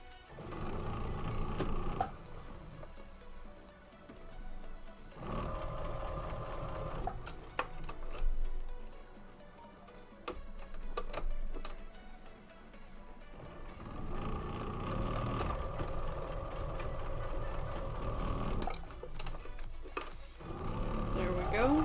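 A sewing machine stitches a poinsettia table runner, running in long steady bursts with a few short pauses between seams, close and fairly loud.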